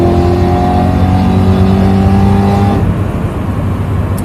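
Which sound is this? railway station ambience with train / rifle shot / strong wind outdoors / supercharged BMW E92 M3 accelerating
supercharged BMW E92 M3 accelerating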